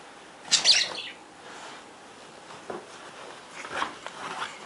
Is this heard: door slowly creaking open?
no